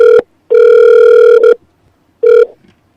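Loud electronic telephone tones from a call being connected, with a short beep, a longer one-second tone and another short beep, separated by silence.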